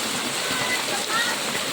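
Steady heavy rain with rushing flood water during a typhoon at night, a dense continuous wash of noise close by, with faint voices mixed in.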